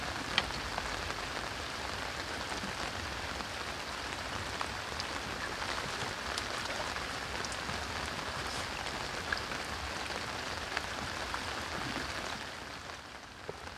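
Steady rain patters on surfaces throughout at a fishing spot, a dense even hiss with scattered close drops, no voices.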